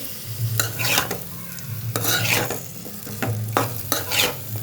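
Taro stolons being stirred into spices frying in a pan for a shrimp curry, with broad scraping strokes of a spatula at an irregular pace over a steady low sizzle, close and fairly loud.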